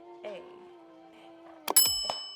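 A bright notification bell rings twice near the end, a sharp ding followed by a second shorter chime, after a stretch of quieter tonal background.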